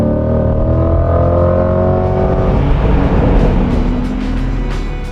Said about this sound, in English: that powerful mid-engine V8 back there has all the torque necessary to fling the Corvette up to triple-digit speeds